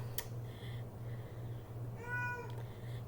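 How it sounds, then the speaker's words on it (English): A pet cat meows a few times indoors, fairly soft and brief, over a steady low hum with no talking. "my cat's speaking"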